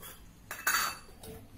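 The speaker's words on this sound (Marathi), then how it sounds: "झाकण काढायचं आणि हा डबा मी आता बाहेर काढून ठेवणार" A metal tin is lifted out of a pressure cooker with a few short metallic clanks and scrapes, one louder clink in the middle, in a quiet kitchen.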